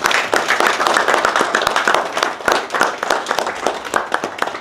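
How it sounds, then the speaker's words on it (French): Members of an under-17 national football team clap for themselves at a youth championship semi-final gathering; dense, steady clapping from a group close by, with scattered louder hand claps throughout. "Applaudissez-vous."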